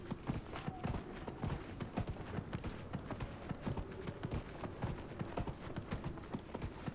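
Horse hooves clip-clopping steadily in the video game Dragon Age Inquisition, a quick continuous gait of close, even hoof strikes over a constant game background, with no talk.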